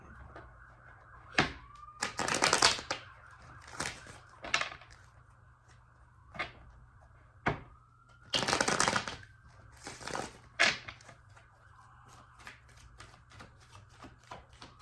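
Tarot cards shuffled by hand during a pick-a-card reading, with two long riffling bursts and several sharp single snaps and taps, fairly close and alone over a faint steady hum.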